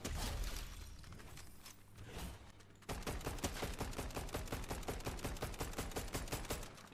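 Rapid shotgun fire in the video game Fortnite, a dense run of sharp, evenly spaced blasts that grows louder and faster partway through, close and forceful with no talking.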